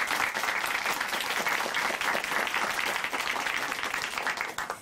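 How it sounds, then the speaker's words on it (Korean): An audience applauds warmly at a church broadcast, a dense, steady wash of clapping that holds throughout and fades slightly at the end. "한번 큰 박수 보내드리겠습니다."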